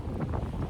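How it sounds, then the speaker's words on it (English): Wind buffeting a microphone on a windy beach, a steady low rumbling roar that fills the moment with no voices. "Well, it's a little bit windy, so I won't do too much on the beach because it will mess up the mic."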